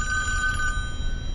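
A telephone rings inside the Friday the 13th video game, a steady electronic bell tone sustained over a low rumbling game ambience.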